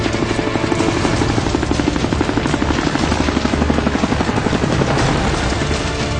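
Helicopters arriving for a fire rescue at a burning 22-storey commercial building in Mumbai, rotor blades thumping in a fast, steady, loud rhythm throughout.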